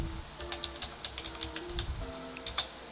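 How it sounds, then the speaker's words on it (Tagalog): Typing on a computer keyboard while entering a search for a Huawei MediaPad M3 Lite 8 LCD part in a browser: a quick run of close, crisp key clicks in an uneven rhythm, with no talk. "mag-open lang ng kahit na anong browser, then i-type Huawei"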